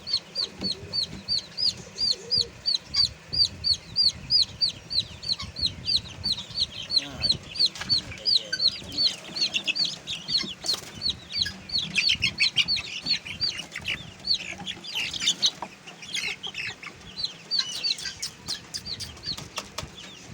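Chickens on a farm, a hen and a small chick among them, cluck and peep in a fast, steady stream of short repeated calls, with rustling and low background noise throughout.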